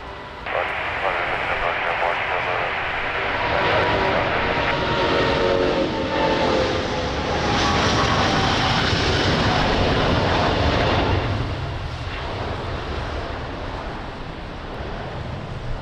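A large airliner departs Lisbon Airport in the rain, its jet engines giving a loud, steady broadband roar that swells midway and eases toward the end, with rain and wind noise beneath.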